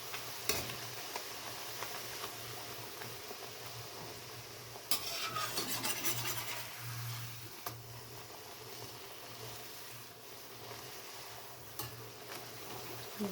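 Puri dough frying in hot oil for a puri and potato palya meal, giving a steady, close sizzle with occasional stirring and utensil clinks, with no talking.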